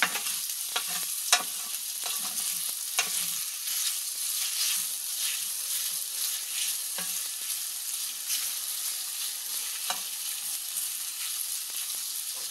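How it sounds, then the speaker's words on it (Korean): Chicken breast, bean sprouts and green onion are stir-fried in a stainless steel pan: a loud, continuous close sizzle with scattered scraping knocks from the stirring, and no talking. "대파를 넣고 또 볶아줄게요."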